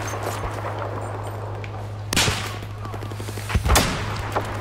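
Sniper rifle shots from the video game Battlefield 4 crack out as two or three sharp reports, one near the middle and a louder cluster near the end, over a steady low game hum.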